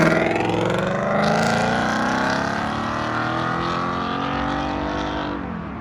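A two-cylinder Morgan three-wheeler with side pipes runs at a car meet, giving a steady, throaty engine drone whose pitch rises and falls slightly as it holds a rev, heard close with no talk over it.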